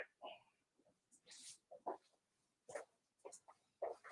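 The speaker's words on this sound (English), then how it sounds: "Puppies." Faint puppies whimper and yip in short scattered bursts, interrupted by rustling, in a quiet indoor room.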